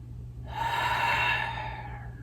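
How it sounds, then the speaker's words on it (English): A big, full breath taken during a restorative yoga session: a single long, soft airy inhale-exhale lasting about two seconds, close and fairly quiet over a steady low hum, with no talking. "Big full breath."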